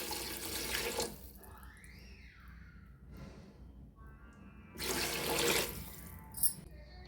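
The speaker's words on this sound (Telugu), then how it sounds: "ఇప్పుడు 2 గ్లాసులు నీళ్ళు అయితే వేసుకుంటున్నాను." Two glasses of water are poured into a pot for kuska biryani, heard as two separate splashing pours a few seconds apart with a quieter gurgle between them.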